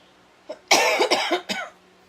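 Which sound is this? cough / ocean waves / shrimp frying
cough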